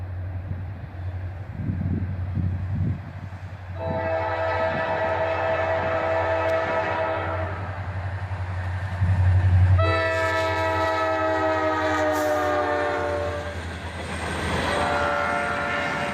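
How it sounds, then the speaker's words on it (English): An intermodal freight train rumbles steadily past at close range, its horn sounding in two long blasts over the continuous rolling noise of the cars. "the end of this intermodal goes by"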